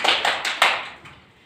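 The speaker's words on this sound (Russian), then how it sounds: "мы с вами хлопаем в ладоши" Children in a school-readiness class clap their hands together, a quick run of four or five sharp, close claps that fade out toward the end.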